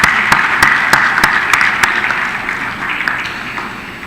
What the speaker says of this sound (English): a huge round of applause for the fantastic effort and the result there